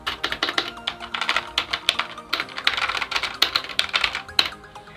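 Fast, continuous clacky keystrokes on a Cosmic Byte Pandora CB-GK-26 mechanical keyboard, close and fairly loud, with uneven bursts of typing and a few sharper key hits over five seconds, no voice.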